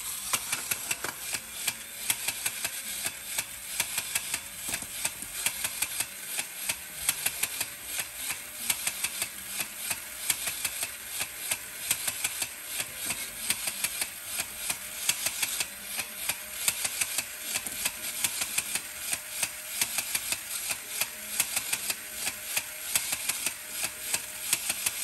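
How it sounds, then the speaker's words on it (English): A vintage Japanese Jolly Bear with Robin battery toy running, its mechanism giving a fast, steady, loud clicking rattle with a whirring motor underneath that carries on unbroken for the whole stretch, with no voices. "I'm not sure if that clicking sound was supposed to be a squeaker"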